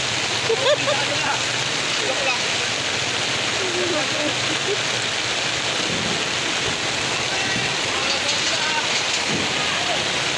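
Floodwater rushing down a flooded street too deep for vehicles to cross, a constant loud roar filling the whole clip, with faint voices in the background.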